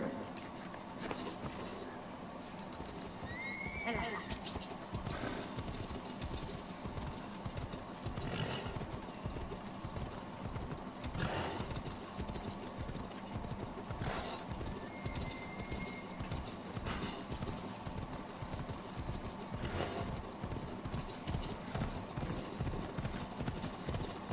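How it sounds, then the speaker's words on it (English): Steady clip-clop of a video game horse's hooves at a trot, continuous throughout, with faint birdsong chirps in the background. "Horse."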